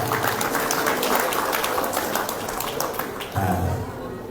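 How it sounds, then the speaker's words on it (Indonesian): An audience at a Muhammadiyah community gathering claps in a dense, continuous round of applause, with a voice faintly audible beneath it and the clapping tapering near the end. "tepuk tangan"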